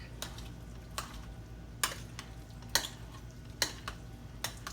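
Cornbread dressing mixture with dry sage being stirred in a pot, soft scraping strokes repeating at a loose, irregular rhythm, close and quiet against a faint low background hum.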